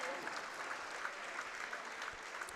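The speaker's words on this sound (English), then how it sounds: "And an applause there for the Cougar senior." A gym crowd claps for a senior player during a Minnesota high school boys basketball game, steady but fairly faint applause heard at a distance.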